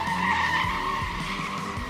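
Tires squeal and screech over a roaring engine as drift cars slide through a drift zone at a charity event in Kraków, a continuous loud skid with the motor revving underneath.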